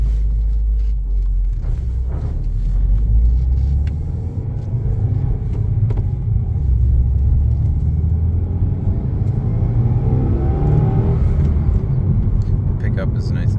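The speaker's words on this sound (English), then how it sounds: "Lane, we're going to go on the test drive video, 18 WRX." A 2018 Subaru WRX on a test drive, its engine and road noise forming a steady, loud low rumble from inside the car throughout, with a faint voice now and then.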